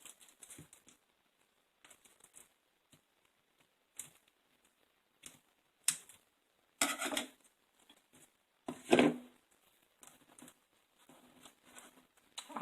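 Material being cut for DIY blinged mirror coasters, sparse short snips and crinkling handling noises in a quiet room, with a few louder bursts scattered among near-silent gaps.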